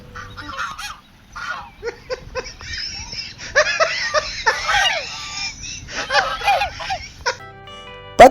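Ducks on temple grounds quack and honk in irregular bursts, several birds calling close by, some calls overlapping into a noisy chorus.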